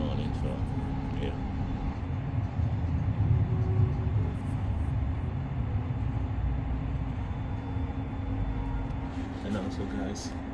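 Steady low rumble inside a German public transport train during an early-morning commute, continuous and fairly loud throughout, with faint background voices of passengers.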